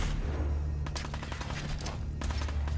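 Gunfire in Fallout 4 survival mode bursts out as a rapid volley of shots over a steady low game hum, loud and close, with sharp cracks clustering near the end.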